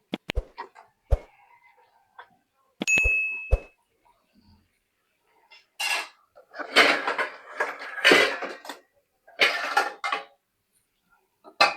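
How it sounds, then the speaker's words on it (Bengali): Chicken curry with pointed gourd and potato being stirred and sautéed in a pot: a few sharp metallic clinks and dings from the utensil, then a run of rough, repeated scraping bursts. No talking. "এখন আমি নাড়া দিব নাড়াচাড়া করে একটু কষাই নিব তারপরে ঝোল দিব"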